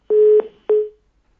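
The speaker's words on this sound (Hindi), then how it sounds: "फोन लाइन डिस्कनेक्ट हो गई है" A telephone line tone sounds after a caller on a radio phone-in show is cut off: two short, steady electronic beeps at a single pitch, separated by a brief gap, clear and alone with no talk.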